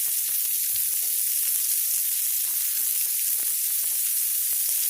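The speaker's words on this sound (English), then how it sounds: "I'm going to roll these drumsticks over on their side and cook them for another couple of minutes" Chicken drumsticks cook on a hot grill or pan with a steady, close hissing sizzle that runs unbroken throughout, with no voices.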